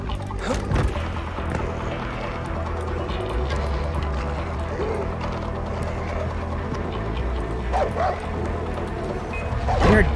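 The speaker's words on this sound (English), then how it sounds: "Dog barking." A dog barks and yips repeatedly in the game Far Cry 4, the barks steady over a busy bed of game music and ambience.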